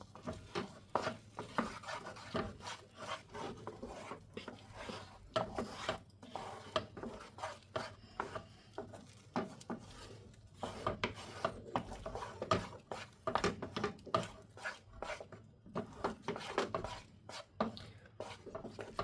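A thick ragi milk sweet is stirred in a pot until it cooks to a dense, kali-like consistency, giving steady, rhythmic scraping and rubbing strokes of a spoon against the pot, close up with no talking.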